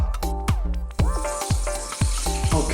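Ground beef stuffed eggplant topped with cheese sizzles steadily in the oven, a continuous crackling hiss broken by repeated sharp pops and spits throughout.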